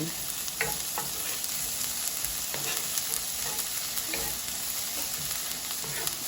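Garlic and onion sizzle steadily in a pan for shakshouka, a constant close hiss with occasional soft pops and stirring scrapes, no voices.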